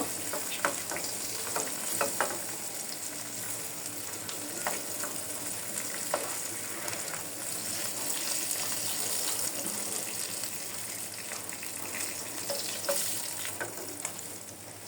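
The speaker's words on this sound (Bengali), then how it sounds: "আমার মাছগুলো ভাজা হয়ে গিয়েছে, এখন আমি মাছগুলো তুলে নিব" Fish pieces fry in hot oil in a pan, giving a steady, dense crackling sizzle with scattered sharp pops throughout, close and continuous with no voices.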